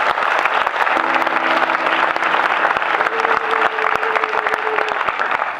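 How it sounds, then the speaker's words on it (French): Loud, steady applause from a large audience at a show, a dense continuous wash of clapping filling the whole stretch, with faint tonal sounds in the background. "Est-ce que vous pouvez applaudir très fort pour vous-même"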